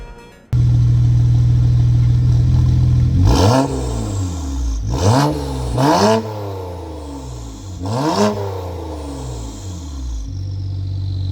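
A BMW E60 with an N54 engine after a PCV delete starts up and idles loudly nearby, then revs several times in short bursts before settling back to a steady idle.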